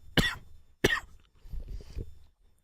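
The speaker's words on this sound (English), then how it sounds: "I think I have to cough." Two sharp, close coughs in quick succession from a single person, followed by a softer throat-clearing rumble, in an otherwise quiet room.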